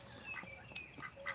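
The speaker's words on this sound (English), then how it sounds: "And Mr. Duck is over here trying to incite the chickens." Duck quacks and honks from a farmyard duck among chickens, a few short calls spaced irregularly at moderate distance over quiet outdoor ambience.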